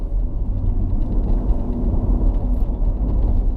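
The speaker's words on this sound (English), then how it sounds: "we're driving the Prelude, let it warm up." A Honda Prelude engine rumbles steadily from inside the cabin during city driving, a low continuous drone with road noise, no voices.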